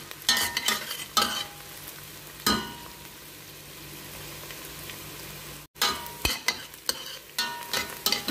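Garlic frying in a pan for chicken curry with vegetables: a fairly loud sizzle broken by sharp stirring and scraping bursts, with a quieter steady hiss between them and no talking.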